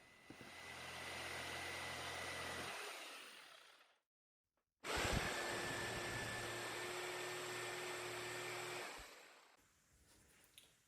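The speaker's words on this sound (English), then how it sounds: "use my jigsaw to cut the curve" A jigsaw cuts a curve in a wooden side rail for a vertical queen Murphy bed, a loud steady buzzing whine that runs for several seconds, stops, then starts again for another long cut, close and without speech.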